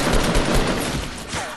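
A short, dense volley of gunfire in the Fortnite video game fills the clip. Rapid, loud shots follow one another with no speech.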